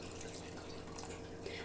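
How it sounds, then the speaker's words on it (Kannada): Water poured from a mixer jar into mutton curry masala bubbling in a pan makes a steady, close splashing pour that runs unbroken and fairly loud. "ಈಗ ನಾನು ನೀರು ಹಾಕ್ತಾಯಿದ್ದೀನಿ."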